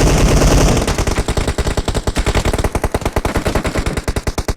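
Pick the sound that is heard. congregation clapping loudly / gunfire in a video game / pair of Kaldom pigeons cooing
gunfire in a video game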